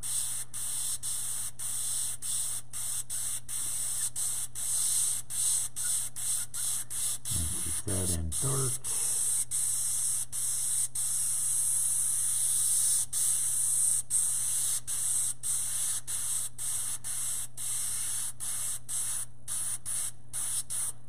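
An airbrush sprays paint for a chrome chain finish with a constant close hiss, cut by quick clicks and stops of the trigger, and someone speaks briefly partway through.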